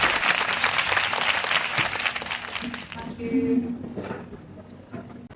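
Loud audience applause welcoming a nutritionist guest on a studio show, dense clapping for about three seconds that thins out and fades, with a voice briefly heard near the end.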